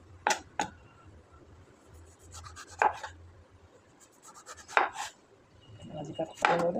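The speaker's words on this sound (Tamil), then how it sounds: "அதுக்காக நம்ம நல்லா ஸ்லைஸ் பண்ணிக்கலாம்" A knife slices eggplant on a cutting board in sharp, separate cuts spaced a second or two apart, close and clear with quiet pauses between strokes.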